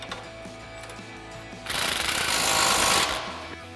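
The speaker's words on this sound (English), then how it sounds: "we'll go ahead and grab our 15 mil socket and swivel adapter on our impact and our 18 mil wrench" Impact wrench with a 15 mm socket and swivel adapter tightening a coil-over bolt on a 1994-2004 Mustang; one loud continuous hammering burst of about a second and a half, rising from a quieter garage background, with no talking.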